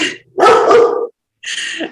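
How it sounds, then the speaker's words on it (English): Dogs bark indoors in two loud, close bursts separated by a short silence. "And sorry, I have dogs."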